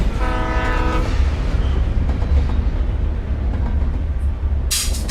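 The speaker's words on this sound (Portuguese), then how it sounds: "Ah, é o trem." A train rumbles past in the video game Alan Wake Remastered, with a loud, continuous low rumble and a horn blast at the start, then a bright hiss near the end.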